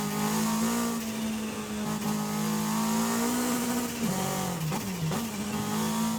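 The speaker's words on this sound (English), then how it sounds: "as I'm accelerating, when this thing floats about, I'm kind of afraid of it to like floor or to properly accelerate through there" Toyota MR2 engine in Forza Horizon 5 droning steadily under acceleration, a loud continuous buzzing note that holds its pitch, then dips and wavers briefly near the end with no talking over it.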